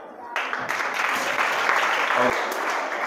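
A classroom of students claps together in a dense, steady burst of applause lasting a few seconds, with faint voices mixed in.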